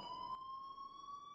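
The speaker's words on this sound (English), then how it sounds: "please turn off that alarm since that's your job." An electronic alarm rings in the video game Life is Strange, a faint, steady high-pitched tone holding continuously, with a brief soft noise at the start.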